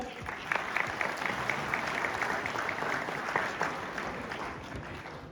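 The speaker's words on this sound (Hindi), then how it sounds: "मैं चाहूंगा एक बार आप सभी लोगों के स्वागत में भी तालियां हो जाएं।" Audience applause in a hotel hall during a seminar, a dense, continuous wash of many people clapping at an even level throughout, close and full.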